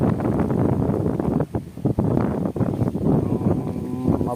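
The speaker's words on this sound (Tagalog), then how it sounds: "Lakas kasi ng hangin." Strong wind buffets the microphone in loud, gusty rumbles during milkfish fishing in Valenzuela, with brief lulls between the blasts.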